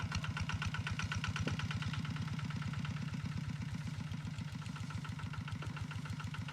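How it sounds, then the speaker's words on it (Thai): A Thai E-taek farm truck engine idles close by, thumping in a fast, even rhythm throughout with no voices. "รถอีแท็กหนึ่ง"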